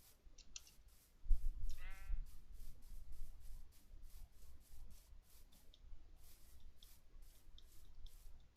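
A sheep bleating in the Minecraft video game, one clear wavering bleat near the start over a steady run of rhythmic clicking and rubbing game sounds, with no talking.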